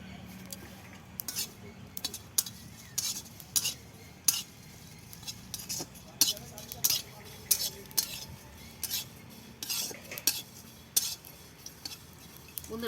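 A utensil stirs spices being lightly fried in a pan for chicken bhuna masala. Irregular metallic scrapes and clinks sound up close over a soft background sizzle.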